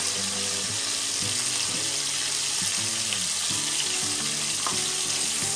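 Tomato fries in a pan for cashew upma, with a steady close sizzle and hiss beneath a repeating tonal musical pattern, and no talking.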